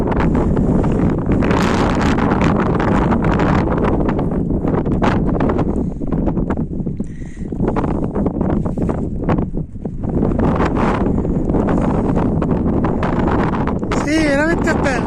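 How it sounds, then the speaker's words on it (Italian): Strong, constant wind buffets the microphone on the summit of Punta di Su Guardiano, a dense roar with gusts that dips only briefly. "peccato tutto sto vento"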